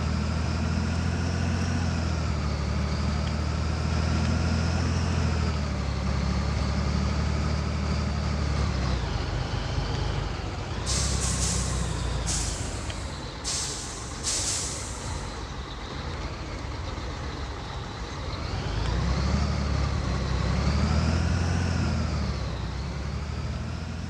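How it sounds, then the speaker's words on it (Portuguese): Simulated Scania K420ib 6x2 double-decker bus engine in a driving simulator game, a steady low drone that swells and fades as it revs, with a few short hissy bursts midway, continuous and fairly loud with no talk. "Vocês escutarem o barulho aí do motor aí"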